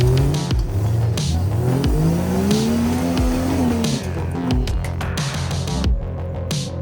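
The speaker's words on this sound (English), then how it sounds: "it was my turn to hit Magnolia Hill in the old Greta Jeep" An old Jeep climbing Magnolia Hill on a Halloween night ride revs hard and close, its engine pitch rising and falling through repeated throttle bursts, with tires scrabbling and squealing over the loose climb.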